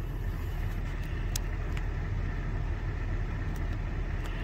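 A 2007 Honda Odyssey's 3.5 VTEC engine runs steadily after restarting, a low even hum heard up close with a few faint clicks and no talk.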